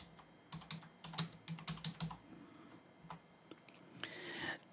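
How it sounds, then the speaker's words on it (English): Typing on a computer keyboard, with quick, close bursts of key clicks in uneven rhythm, a short pause, then a few more taps and a final heavier keystroke, in a quiet room. "we're going to type list disk."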